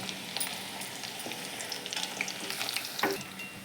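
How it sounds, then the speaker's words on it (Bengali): Baby corn frying crisp in a pan, a steady close sizzle with a few louder spatters and stirring scrapes throughout. "আমার বেবিকর্ন, এই যে ভাজা হচ্ছে।"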